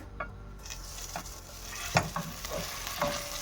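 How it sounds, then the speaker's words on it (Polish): Chopped onion fries in butter in a hot pan, a dense continuous sizzle up close with scattered scraping taps from a stirring utensil, one louder knock near the middle. "I przysmażamy naszą cebulkę pokrojoną."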